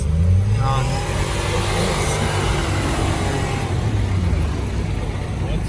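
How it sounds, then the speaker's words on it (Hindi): Cars pull away from a stage ceremony on its final day at Dera Jat, with a steady engine rumble rolling past close by while people talk over it. "सारी गाड़ियां जा रही हैं"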